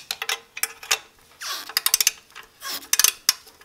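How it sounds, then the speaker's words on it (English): Ratchet wrench working the exhaust fasteners on a Triumph Scrambler 1200 during a header pipe install: quick bursts of rapid clicking in short runs, broken by brief pauses, close up with no talking. "That's why I use Mr. Ratchet Wrench, okay? These really help you get into these tight spots."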